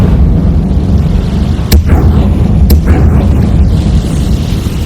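Incendio fire spell cast in the Hogwarts Legacy video game, a loud continuous roaring rumble with two sharp bursts of crackle, dense and close over game ambience.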